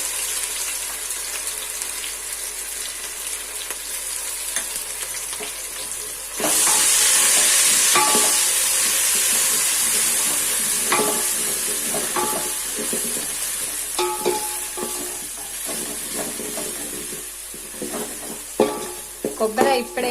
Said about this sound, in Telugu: ఉల్లిపాయలు అయితే చక్కగా వేగాయండి